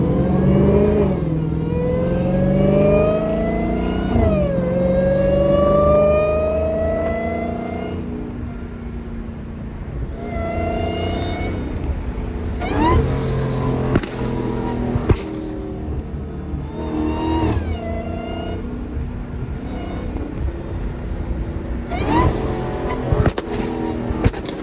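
A Dodge Hellcat accelerates hard with a loud rising engine roar and supercharger whine through several gear pulls, followed by sharp exhaust pops and crackles on lift-off.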